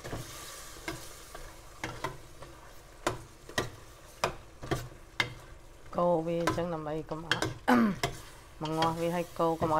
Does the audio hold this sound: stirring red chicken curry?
yes